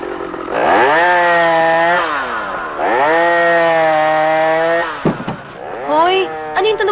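Souped-up sports car engine starting and revving hard in loud, rising and falling bursts, raspy and buzzing, with voices breaking in near the end.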